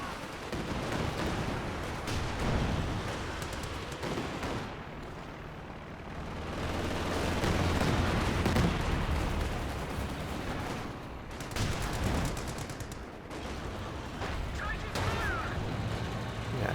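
Support gun and mortar rounds bombard positions in the Company of Heroes 2 strategy game, a dense, continuous rumble of explosions and gunfire under a commentator's voice.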